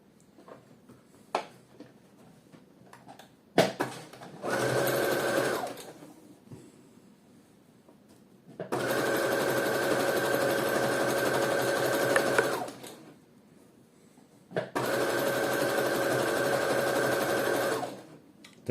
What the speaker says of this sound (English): I usually do 4mm straight stitch in the middle of the foot.